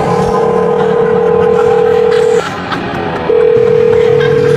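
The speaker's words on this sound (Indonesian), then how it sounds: "Jangan angkat telepon itu." A telephone tone sounds loud and steady, cuts off for about a second, then resumes, over a low background rumble with no talk.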